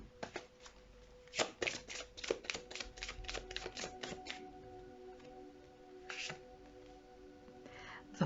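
Tarot cards are shuffled by hand close up, a quick run of crisp riffling flicks followed by softer scattered card slaps and shuffles.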